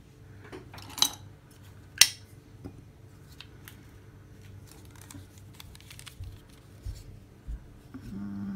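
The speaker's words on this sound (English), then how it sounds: "I'm just gonna cut a piece." Scissors cut a piece of craft material for a tie-dye project, a couple of sharp snips followed by soft rustling and small handling clicks, close and fairly quiet, with no talking.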